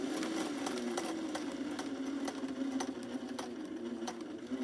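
Sewing machine stitching fabric around a curve for a stuffed bunny, a steady close rapid whir with regular needle clicks running throughout.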